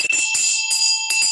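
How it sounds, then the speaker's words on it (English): A hand bell for a roll call rings close and loud in several quick bursts of bright metallic clangs, each with a sustained ringing tone. "I'm ringing this bell because we're doing a roll call"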